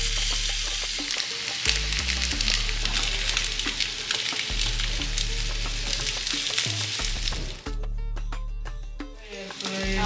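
Prawn kalmas frying in a pan, a loud, close, continuous sizzle with bursts of popping oil and stirring clatter, easing briefly near the end before resuming.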